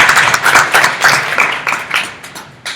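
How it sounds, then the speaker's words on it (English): Crowd applause at a Memphis community gathering, a close burst of many hands clapping in uneven waves that gradually taper off, with no voices over it. "Let's give them a round of applause"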